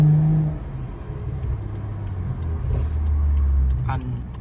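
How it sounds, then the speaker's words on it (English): A straight-piped BMW F10 idles and burbles with a deep, steady low rumble, a couple of slight swells, while someone talks over it. "I hope y'all hear them burbles."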